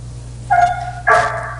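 Dogs bark indoors in two short bursts, each a sharp yelping bark trailing into a higher whine, close by over a steady low electrical hum.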